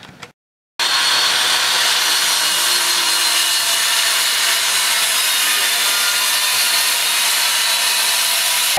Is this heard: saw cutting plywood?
yes